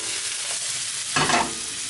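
Garlic cloves sizzling in a pan beside a seared steak on medium heat, a steady soft frying hiss with a brief louder stirring scrape midway.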